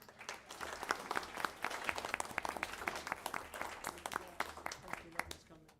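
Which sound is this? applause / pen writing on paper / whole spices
applause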